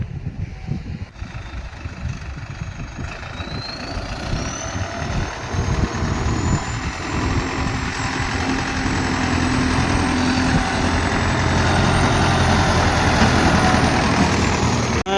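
A tractor engine runs with a steady, rumbling idle that grows slightly louder and fuller, with a thin whine rising above it, during paddy harvest.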